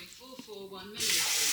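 Water starts gushing from a kitchen tap into a measuring jug, a sudden loud steady hiss that follows a moment of quieter kitchen handling noise, with no talking.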